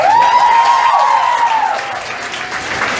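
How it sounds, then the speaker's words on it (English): Audience at a live music performance in New York City clapping, a full burst of applause under a singer's sustained vocal note, loud at first and easing slightly. "you can clap for that"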